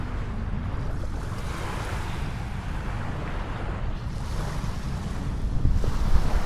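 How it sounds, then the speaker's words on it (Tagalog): Steady surf from Manila Bay rolls and washes onto a shore, with a rushing wash throughout and a slight swell near the end, mixed with some wind. "Umahalik ang alon sa pisngi ng dalampasigan."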